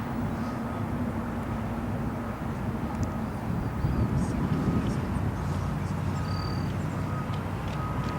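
A Delta Boeing 757 airliner, originally delivered to Northwest Airlines in 1996, arriving at O'Hare International Airport, heard as a steady broadband jet roar that stays loud and continuous throughout, swelling slightly toward the middle.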